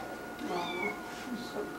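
A pet cat meows a few times in a home during a family birthday gathering, fairly close and moderately loud over quiet room noise.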